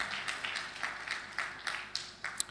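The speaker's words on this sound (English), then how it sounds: "a round of applause for Dr. Emmanuel Ibe Kachukwu" Scattered, thin applause at a conference opening ceremony for Dr. Emmanuel Ibe Kachukwu, a handful of individual claps trailing off, fairly faint and distant in the hall.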